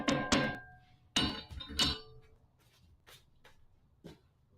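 A hammer strikes a hot cut on hot steel at a blacksmith's forge: several sharp, close metallic thunks in quick pairs, then a few fainter taps trailing off.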